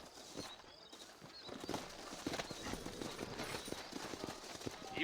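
A horse's hooves clip-clop steadily as it is ridden in the Red Dead Redemption video game, a continuous rhythmic trot under soft outdoor ambience.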